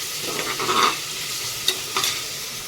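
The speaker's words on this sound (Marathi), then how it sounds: "कांदा भाजतोय एका साईडला कमी गॅसवरती" Onion roasts on one side in a pan over a low gas flame while cooking black mutton curry, a soft steady sizzle with a few light scraping and stirring touches, close and alone without talk.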